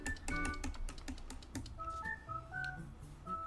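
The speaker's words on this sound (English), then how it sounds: "ASMR clicking sound, yeah." Rapid clicking from a computer keyboard or drawing tablet, a dense run of sharp close taps at first that thins into sparser clicks over soft background tones.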